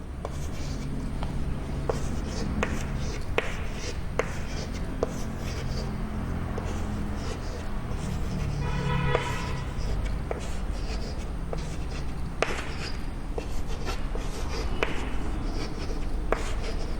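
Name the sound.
pen drawing on paper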